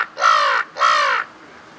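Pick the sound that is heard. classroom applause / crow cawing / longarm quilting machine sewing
crow cawing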